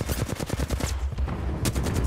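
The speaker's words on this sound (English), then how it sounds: "My shots didn't even go close to hitting them." Rapid gunfire from the battle-royale video game Apex Legends, a loud string of close, overlapping shots firing in quick bursts and continuing nearly unbroken throughout.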